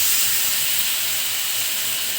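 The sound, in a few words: grated mango added to a hot pan with garlic, sizzling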